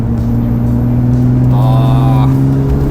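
A Lotus Evora sports car with an aftermarket exhaust accelerates hard, its engine a loud, steady droning roar heard from inside the cabin with a rising harmonic whine midway, no voices over it.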